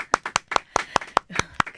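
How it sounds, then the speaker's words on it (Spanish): Sparse, distinct hand claps, roughly a dozen sharp slaps in an uneven rhythm, close by, from a small group welcoming guest Paula onto a podcast. "demos un aplauso maravilloso a Paula"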